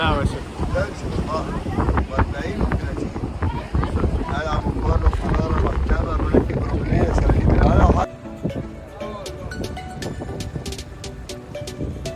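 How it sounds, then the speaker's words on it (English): Strong wind buffets the microphone in a loud continuous roar on a trip in Egypt, easing somewhat after about eight seconds but still blowing steadily. "There's a lot of wind"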